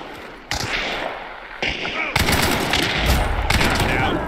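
Gunfire in the video game Hunt: Showdown, loud bursts of shots at about 0.5, 1.6, 2.2 and 3.5 seconds over a continuous rumble.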